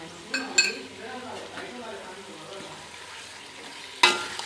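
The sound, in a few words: stirring chicken curry in a pan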